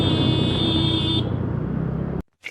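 A vehicle horn blaring in traffic: one long, loud, steady honk close by that holds for about two seconds and then cuts off abruptly, followed by a brief faint sound.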